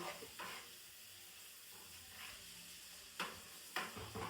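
Chopped onions with chillies sizzle steadily in a pan over moderate gas heat while a paneer curry is cooked. A close, soft frying hiss runs throughout, broken by a few scraping stirs and clinks.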